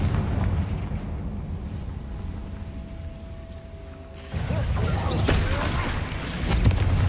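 A Confringo spell bursts in Hogwarts Legacy after a low steady hum, giving a sudden loud explosive blast that holds as a rumbling, crackling roar to the end.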